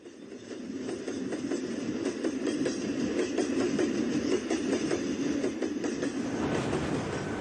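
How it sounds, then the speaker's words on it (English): A train rumbles past at close range as it crosses a bridge, wheels clattering over the rails in a rapid, rhythmic clickety-clack that grows louder and stays loud. "a bridge passed with a clap of noise, echoing the tumult of the train"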